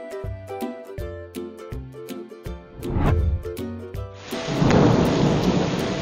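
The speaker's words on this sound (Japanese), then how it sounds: "逼真的雷声让人瞬移到雨林之中" Realistic thunder sound effect in the rainforest zone of Xpark aquarium in Taoyuan, with rolling rumbles building to a loud crack, then a steady roar of heavy rain, all heard over music.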